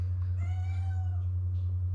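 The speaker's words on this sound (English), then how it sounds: "they keep thinking there's a cat at their door" A single cat's meow, a drawn-out tonal call lasting about a second, heard faintly over a steady low electrical hum, with no talking.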